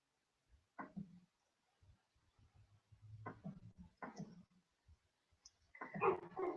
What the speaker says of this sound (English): so the dogs are barking again.